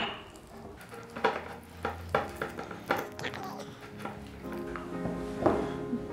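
A spoon stirs honey into a mixture in a metal pot or bowl, giving repeated clinks and scrapes against the sides in an uneven rhythm, close and moderately loud.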